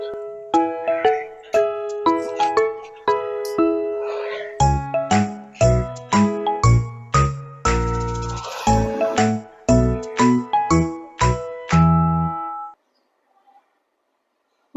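A phone call rings as a repeating melodic ringtone, a sequence of bright electronic tones in quick bursts that plays loudly and steadily for about twelve seconds before stopping abruptly into silence.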